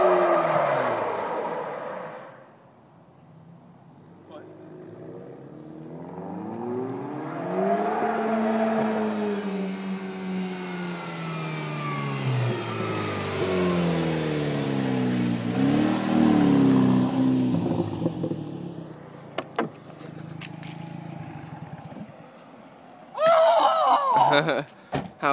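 A Saturn Sky making 305 rear-wheel horsepower does donuts, its engine revving and rising in pitch through long sustained pulls, with tire noise and people talking nearby toward the end.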